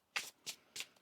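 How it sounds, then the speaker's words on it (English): Tarot cards are riffle-shuffled by hand in three quick, crisp bursts with a faint fourth at the end, close and clear in a quiet room. "One more shuffle here."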